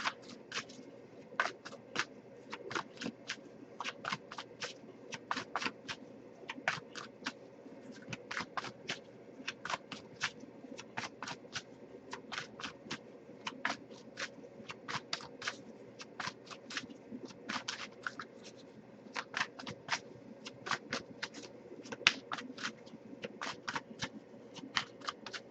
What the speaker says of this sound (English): so I'll give it a few more shuffles